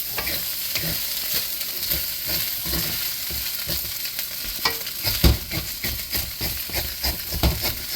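Beef fried rice being stir-fried in a hot pan: a steady loud sizzle with repeated scraping and stirring clanks of a utensil against the pan, close up, with no talk.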